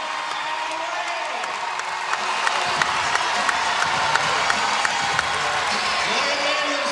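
Washington home crowd on its feet at a women's basketball game against Stanford, sustained cheering with scattered claps and whoops building into a loud roar, a commentator talking over it.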